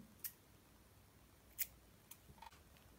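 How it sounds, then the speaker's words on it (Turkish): Scissors snipping thread while sewing: two or three faint, crisp clicks spaced apart in a quiet room, with a few small handling sounds after them. "Bu ipi kesiyorum."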